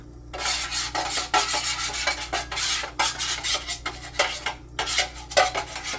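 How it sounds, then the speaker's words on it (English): Tomato sauce spooned over ramen lasagna in a baking dish: repeated close scraping and tapping of a metal spoon against the dish in an uneven rhythm, with no talking. "Spoon in some tomato sauce and cover so that the ramen doesn't stick."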